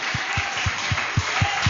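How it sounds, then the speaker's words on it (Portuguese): Church congregation applauding loudly after a sermon, a steady wash of clapping with a regular low thump pulsing through it, fairly loud and sustained throughout. "Você pode aplaudir bem forte a palavra do Senhor?"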